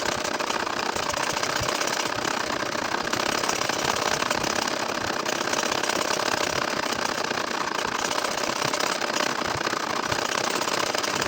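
A sewing machine stitching a baby nakshi kantha quilt runs with a dense, continuous rapid mechanical chatter, steady and close throughout.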